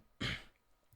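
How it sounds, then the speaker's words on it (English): A single short cough or throat-clearing burst sounds close to the microphone during a podcast, then fades into quiet room noise. "I'm just having a coughing issue right now."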